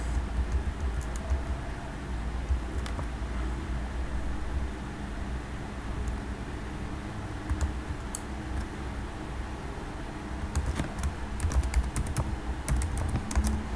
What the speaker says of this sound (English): I will just type in the box.